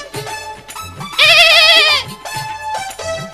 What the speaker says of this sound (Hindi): आओ आओ मेरी प्यारी बकरी